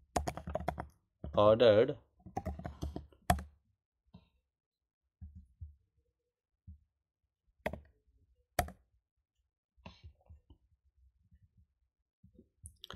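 Keys clack sparsely on a computer keyboard as a pip install command is typed, quiet and close, in scattered bursts after a man's brief speech and a cough.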